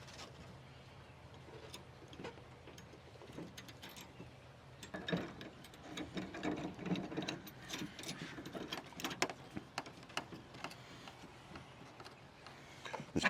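A ratchet snugs down a 17 millimeter bolt on a light pod mount for a Ford F250, giving a quiet run of rapid mechanical clicks and ticks up close, steady and faint, with no talking over it.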